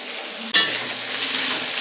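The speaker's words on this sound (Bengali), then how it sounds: "এই আদা রসুন পেঁয়াজ আর লঙ্কা গুঁড়ো হলুদ গুঁড়ো দিয়ে একসঙ্গে কিন্তু মশলাটাকে আবারও একটু ভালো করে কষিয়ে নেব" A spice paste of ginger, garlic, onion, chilli powder and turmeric powder hits the pan for a cauliflower kosha and erupts into a sudden, loud sizzle. The frying then settles into a steady, crackling hiss, with no one speaking.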